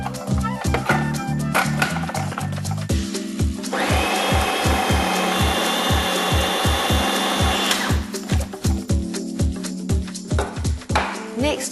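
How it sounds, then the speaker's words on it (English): A kitchen blender whirs loudly for several seconds while mincing pork and fish together, a dense buzzing roar set between sharp repeated knocks and clatter before and after it. "To make life easier, I'm going to use a blender."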